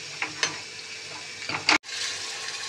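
Spice masala with potatoes fries in a pan, giving a steady sizzle with a few stirring scrapes and one louder spit of hot oil, close up and with no voices.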